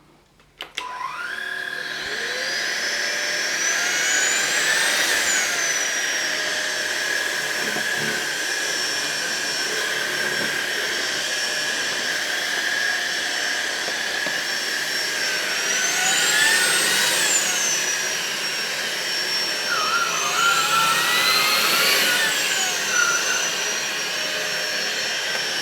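A Smot vacuum cleaner on its auto setting sucks up loose tea, starting with a whine that climbs and holds loud and steady, with the pitch sweeping up and down several times as the suction changes.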